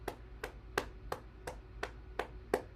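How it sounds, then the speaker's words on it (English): Eight sharp hand claps fall in a steady, even rhythm at moderate volume, close and clear with no talking over them. "So we clap."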